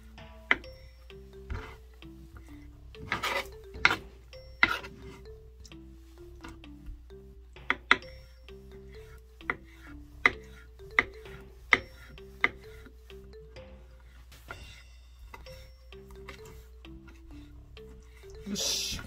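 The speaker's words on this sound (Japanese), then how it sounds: "こんな感じでキャベツと同じぐらいの大きさにね切るよ。" A knife chops squid into small pieces on a cutting board, giving a run of sharp, evenly spaced taps close by in a quiet kitchen.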